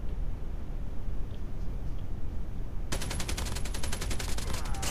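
Rapid bursts of automatic gunfire from the mobile shooter Call of Duty Mobile during a battle royale match, starting partway through after a noisy game ambience and continuing as a loud, sustained rattle of repeated shots.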